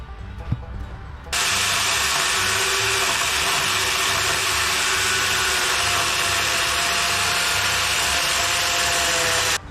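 A grinder chainsaw roars at full throttle from about a second in, a loud steady buzzing whine that continues without a break to the end.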